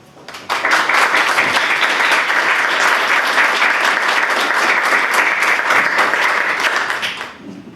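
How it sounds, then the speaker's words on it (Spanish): An audience applauds panelists at a women's rights panel in Tamaulipas, a burst of loud, dense clapping that starts abruptly, holds steady for about seven seconds, then fades out. "damos un fuerte aplauso a todas nuestras panelistas del día de hoy"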